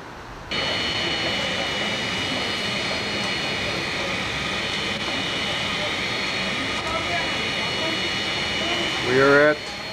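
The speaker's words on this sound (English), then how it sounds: "We are at Los Angeles International Airport." A jet aircraft engine roars at Los Angeles International Airport as a steady, loud broadband whine with tonal high-pitched layers that holds for nearly ten seconds, with a person talking briefly near the end.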